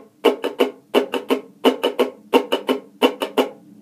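A ukulele is strummed in a regular pattern, with crisp chord strokes falling in quick groups of three or four, close, loud and alone.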